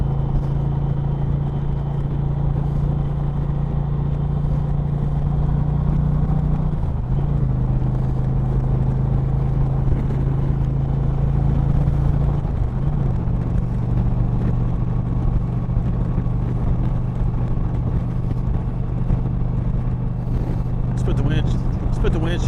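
A 2020 Indian Challenger motorcycle engine drones steadily while riding. The pitch dips twice as the bike shifts gears, with rushing wind under it and a voice talking over it.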